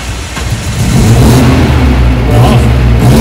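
A 1976 Alfa Romeo GT1600 Junior engine catches as it starts and then revs up, a loud, close, rumbling engine note that swells and holds steady, with no talking.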